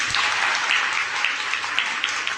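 Steady applause from a group, a dense wash of clapping hands that continues evenly throughout.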